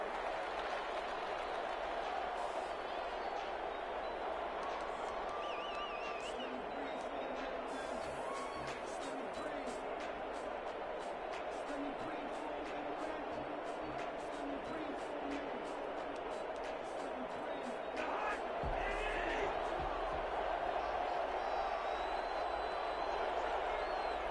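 A stadium crowd in the video game Madden roars and applauds steadily before a Minnesota Vikings versus Detroit Lions matchup, a dense continuous wash of cheering with a commentator talking over it.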